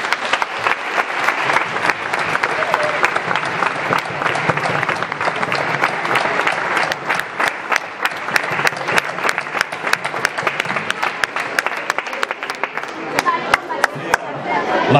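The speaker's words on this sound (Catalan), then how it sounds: "Dediquem-li, si us plau, un fort aplaudiment." Sustained audience applause at the opening of the Solsona town festival, many hands clapping densely and steadily for the whole stretch, loud and close, with no talk over it.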